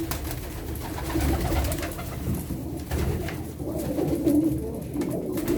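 Pigeons coo softly and repeatedly in a low, throaty murmur, several birds overlapping close by against a steady background rustle.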